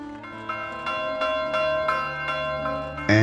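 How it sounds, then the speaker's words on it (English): A bell tower in the medieval farming video game Medieval Dynasty rings out loud, ringing bell strokes about every third of a second, each leaving a sustained metallic hum that builds into one continuous ring. "If you build a bell tower, it will ring at 8 in the morning"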